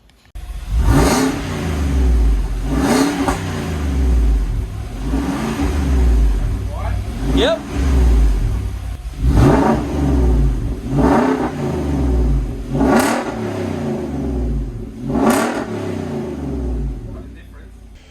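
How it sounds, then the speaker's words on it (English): A Nissan Patrol Y62 with a bimodal cat-back sports exhaust revs hard repeatedly, about every two seconds, rising and falling loudly nearby, with someone briefly speaking. "revving the guts out of this Y62"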